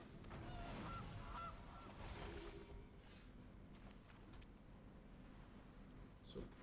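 Goose honk sound effect from the Gilded Goose card in the MTG Arena digital card game, a couple of brief honks early over busy game noise that settles into a quieter hiss.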